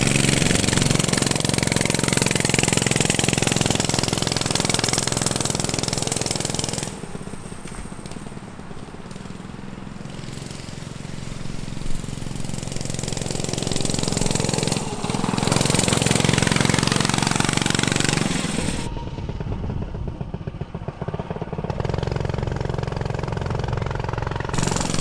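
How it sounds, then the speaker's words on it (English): A governed small engine on a Rascal Lite mini bike runs loud and close, with a steady buzzing drone that dips in level midway and again near the end as the throttle changes. "I'm guessing it's going to be pretty fast for a governed engine at 25 miles per hour."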